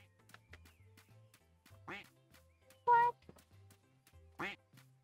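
A duck quacks in a video game, three short nasal calls spaced about a second apart over quiet game music with low tonal blips.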